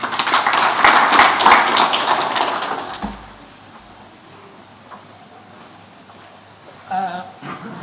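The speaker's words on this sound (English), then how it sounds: "I believe that was not enough clap for Professor" An audience at an international technology and innovation conference applauds a professor with dense, loud clapping for about three seconds, then the room goes quiet and a brief voice follows near the end.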